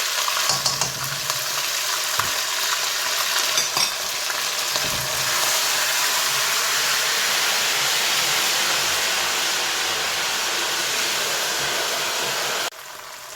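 Ginger and garlic paste frying in a pan for aloo baingan give off a loud, steady hiss and sizzle that runs unbroken, then drops sharply near the end.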